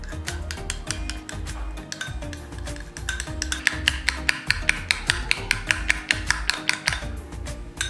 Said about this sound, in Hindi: अब आपको इन तीनों चीजों को अच्छे से मिक्स कर लेना है।